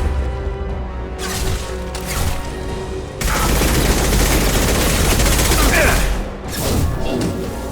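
Sustained gunfire in Mass Effect 2, rapid automatic bursts with booms, loud and continuous after a brief opening, the shooting swelling midway and easing near the end.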